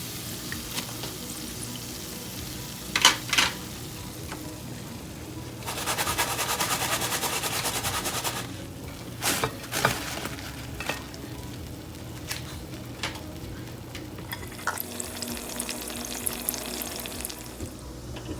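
Potato pakoras coated in gram flour batter sizzle in hot oil, a steady crackling bed with bursts of louder spattering and clinks as they are lifted out to drain, with no talking.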